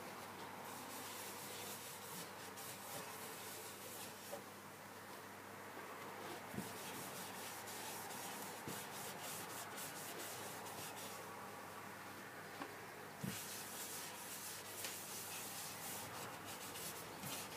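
Shellac sanding sealer is rubbed onto a power-carved wooden sea piece with a cloth, a faint continuous rubbing hiss with soft strokes and occasional small taps, heard alone.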